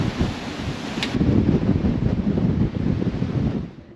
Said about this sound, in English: it's gonna continue to be quite windy and gusty all night